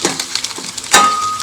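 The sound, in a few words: eggs frying in a pan over medium gas flame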